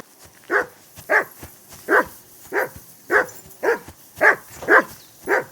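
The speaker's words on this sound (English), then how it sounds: "Call off that mutt of yours!" A dog in the Kingdom Come Deliverance 2 video game gives nine evenly spaced, loud barks, each with a short whining tail, close by and alone with no talk.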